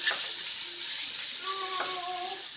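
Onion sautéing in a pan with a steady bright sizzle, close and moderately loud, with a few faint clinks and squeaks over it and no talk.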